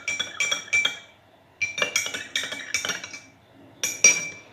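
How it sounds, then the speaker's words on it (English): Spoon clinking against a glass while stirring sugar powder into water, quick bursts of bright taps in several rhythmic clusters, close and clear. "In this glass also we will mix the sugar powder and water till the sugar"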